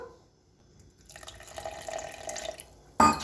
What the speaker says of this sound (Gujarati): હવે આપણે લીસું કરવા માટે એમાં થોડુંક પાણી ઉમેરીશું